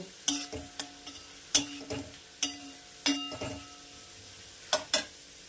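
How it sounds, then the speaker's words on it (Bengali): Whole garam masala of cardamom, cinnamon and cloves dropped into hot oil with fried garlic, giving a low sizzle broken by repeated sharp clicks and scrapes of a utensil against the pan, close and fairly quiet. "রসুনটা ভাজা হয়ে গেছে, এবার আমি দিয়ে দেব একটু গরম মশলা"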